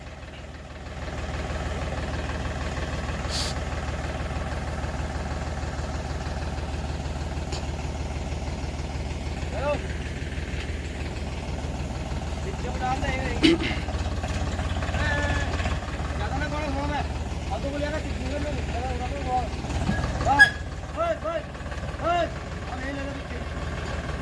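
A Farmtrac 45 tractor engine idles steadily with a low chugging rumble, moderately loud. It runs on through some clanks and handling noises at a site where boring equipment is being set up.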